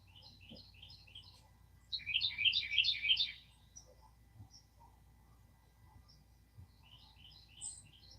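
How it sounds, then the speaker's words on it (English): Birds sing at dawn outdoors, repeating quick high chirping phrases, with a louder, denser burst of song in the middle and softer calls before and after over a low background hum. "I enjoy the birds singing of the morning."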